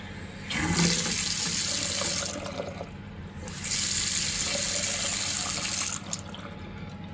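Water gushes from a repaired tap that is now leaking, two loud sustained bursts of running water separated by a brief pause, close and alone.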